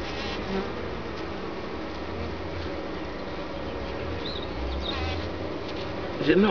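A dense, steady buzzing of many honey bees swarming and attacking a bumblebee at their nest, close and continuous, with a person talking quietly over the droning.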